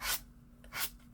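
A sanding sponge rasps across the dried painted edge of a project in two short, close scratching strokes separated by a pause.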